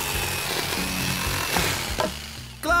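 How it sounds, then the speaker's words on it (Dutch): A power saw bites through a scrap of wood in a children's construction cartoon, with a loud grinding rasp that runs steadily. It briefly falters near the end before a final sharp burst. "Hier, zaag langs deze lijn."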